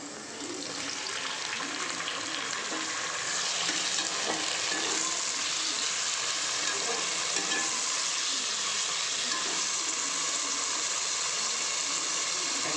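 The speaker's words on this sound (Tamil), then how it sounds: "தக்காளி வதங்கிறதுக்கு இந்த மாதிரி போட்டுக்கலாம்." Tomatoes fry in a pan for egg gravy, giving a steady, loud, dense sizzle that continues unbroken throughout.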